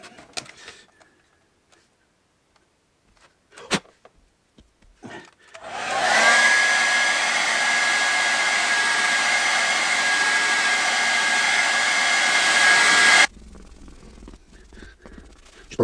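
A hair dryer blasts paint dry on a scuffed BMW leather seat bolster, a loud, steady whoosh running about seven seconds before cutting off abruptly, with faint handling noises before and after.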